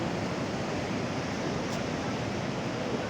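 The Saraswati river near Mana village by Badrinath rushes and roars, a dense, loud, unbroken wash of turbulent water filling the whole sound with no voices.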